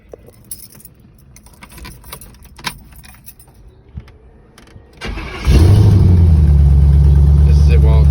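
Keys jangle and rattle for several seconds, then an LS V8 swapped into a first-generation Chevy S10 factory manual truck cranks and fires up, settling into a loud, steady rumble close by.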